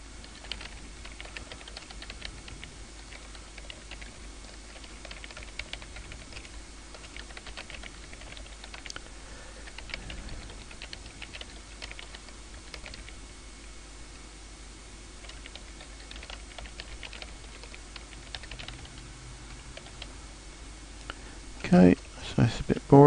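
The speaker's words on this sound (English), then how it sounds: "it's a bit boring just watching me typing" Typing on a computer keyboard, heard as soft, steady clusters of key clicks at close range, running quietly throughout and ending in a few louder taps.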